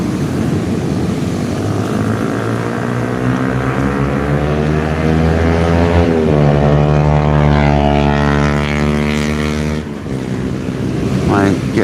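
A two-stroke boat engine drones loudly at sea, rising and shifting in pitch as it passes close by a kayak, then tapering off near the end.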